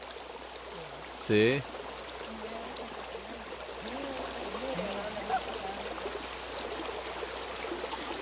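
Flowing water of the Rosario river streams steadily through the whole stretch as a broad, continuous rush, with a man's short spoken word near the start and faint voices in the background.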